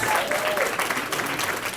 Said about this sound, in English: Let's give our Congresswoman one more round of applause.